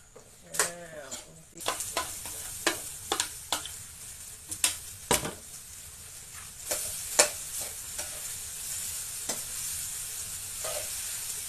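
Fried rice stir-fried in a hot pan with sweet sauce, a constant sizzle under repeated sharp scrapes and clacks of a spatula against the pan, close and fairly quiet.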